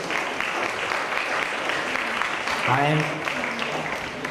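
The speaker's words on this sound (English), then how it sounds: "Ladies and gentlemen, once again, join me to give a round of applause to our moderators and panels." Conference audience at an industry forum applauds the moderators and panel members, steady clapping from a hall crowd with a voice speaking briefly over it near the end.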